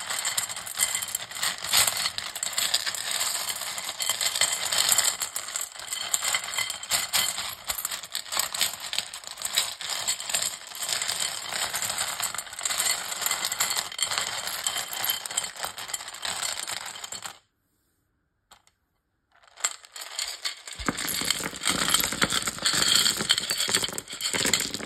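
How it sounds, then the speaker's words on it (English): A large pile of dice spills out of a big glass bowl in a long, continuous clattering rattle lasting many seconds, then stops abruptly, followed by a short second burst of tumbling dice. "I'm going to start with the dice in a big glass bowl. Then I'm going to spill them out so you can see all of them"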